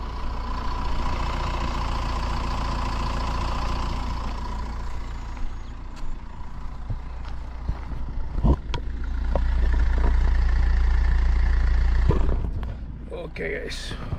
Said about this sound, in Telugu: ఫస్ట్ ఇంజిన్ సౌండ్ వినండి